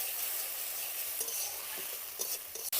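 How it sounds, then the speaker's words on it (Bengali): A paste of ground green chili, fennel and ginger hits hot oil with fried tempering for Kashmiri aloo dum, giving a faint, continuous sizzle with a few soft stirring scrapes near the end. "কাঁচা লঙ্কা, মৌরি আর আদা একসঙ্গে বেটে রেখেছিলাম সেটা ওর মধ্যে দিয়ে দেব"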